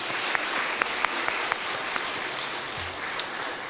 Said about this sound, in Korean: 다시 한번 우리 교회의 어른들을 위해서 함께 박수하겠습니다